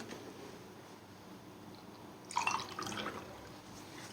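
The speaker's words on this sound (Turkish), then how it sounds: "2 su bardağı da suyumu ekliyorum." Water is poured onto sugar in a kitchen to make syrup for walnut şekerpare: a short splashing burst of about a second, faint and close, in an otherwise quiet room.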